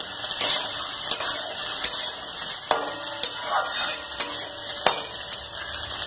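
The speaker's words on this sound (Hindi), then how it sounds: "अब इसको पांच मिनट फ्राई करूंगी" Cauliflower and potatoes frying in a pan, with a steady sizzle broken by repeated metallic spoon clicks and scrapes at irregular intervals.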